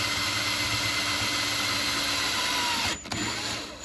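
A drill bit bores through a Banshee carburetor, whining steadily and close for about three seconds before the bit breaks through and the tool winds down, leaving a quieter hum.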